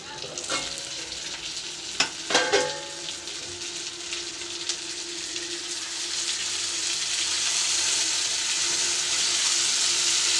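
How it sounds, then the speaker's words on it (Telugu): Eggplant (brinjal) frying in oil in a covered pan gives a steady, close sizzle, with a couple of sharp clinks around the second second and the hiss swelling slightly toward the end; no one speaks. "ఒక 3 నిమిషాలు ప్లేట్ మూసేసి ఒక 3 నిమిషాలు బాగా ఫ్రై కావాలి వంకాయ"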